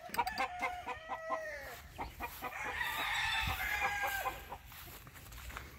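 A hen and her young chicks in grass make soft clucks and thin peeping calls, with a rooster-like call in the mix, a fairly faint outdoor scene with no talking.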